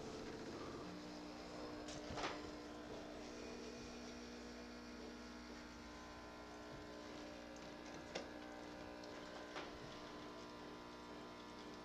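A Tassimo single-serve coffee maker brews with a low, steady hum and faint pumping drone throughout, broken by a few soft clicks, quiet and alone.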